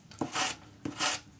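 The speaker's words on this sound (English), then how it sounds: "400 grade paper on a sanding stick" Two slow, close strokes of 400-grit sandpaper on a sanding stick rasp along a metal bangle wire, each a soft scratchy swipe separated by a short pause.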